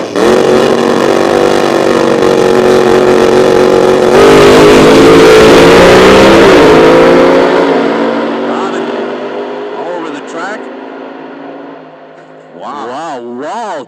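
Drag racing cars at a Nitro Nationals event launch and roar down the strip at Toronto Motorsports Park, a loud sustained engine howl that swells mid-run then fades into the distance, with an announcer talking over it.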